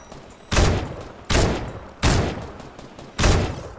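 Four heavy thermal-rifle shots ring out in a video game, each a loud, sharp blast with a ringing tail, spaced roughly under a second apart, with no talking over them.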